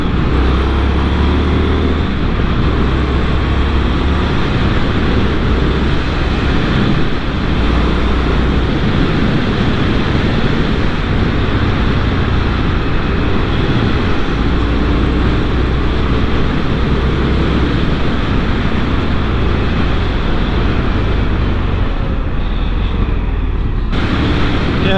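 Indian FTR 1200 S motorcycle on a test ride, its engine a continuous loud low drone mixed with heavy wind rush, steady throughout and close, with no voices.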